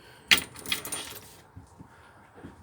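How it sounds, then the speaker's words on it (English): A bunch of RV keys jangles and clinks against a sink inside a 2013 Freedom Express 22DSX camper, a bright close metallic rattle that settles into a few faint taps. "Your keys are going to be right here on the sink."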